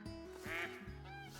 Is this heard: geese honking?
yes